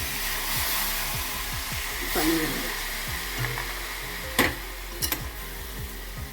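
Water hitting a hot oiled pan of oats upma mixture, a steady broad sizzle and hiss with scattered clinks of a utensil, moderately loud and close, no talk.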